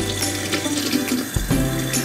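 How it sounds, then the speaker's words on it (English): Water running steadily from a tap into a sink for handwashing, a continuous close rushing with a brief dip in flow partway through. "So first of all, you're gonna turn on the water."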